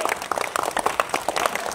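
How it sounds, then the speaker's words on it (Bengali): Audience clapping hands together at a live magic show, a dense patter of overlapping claps at close range that holds steady throughout. "চলো হাততালি দাও, চেষ্টা তো করছে, একবার জোরে হাততালি দাও তো।"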